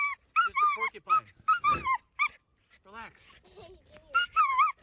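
A dog digging around a porcupine while whimpering and yipping, with several short high-pitched cries close by, interleaved with people talking.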